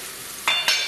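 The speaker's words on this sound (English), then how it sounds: "Saute the onions. Don't make them brown." Onions sauté in a pan over a faint hiss, with two quick scraping stirs close by near the end.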